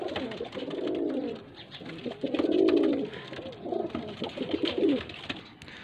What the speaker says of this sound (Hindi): ये कबूतर है भाईजान